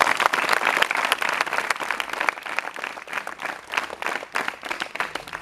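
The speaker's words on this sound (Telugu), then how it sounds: "అండ్ గట్టిగా ఒకసారి క్లాప్స్ కొట్టాలి" A college audience at a mental health awareness talk claps together in dense, sustained applause that lasts about five seconds, with no speech over it.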